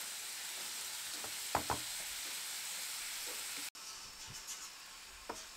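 Onions and peppers sizzle steadily in a hot pan, a continuous frying hiss with a few soft stirring clicks and scrapes, fairly close and without any talking.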